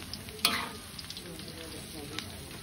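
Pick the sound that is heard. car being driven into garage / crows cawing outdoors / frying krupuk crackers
frying krupuk crackers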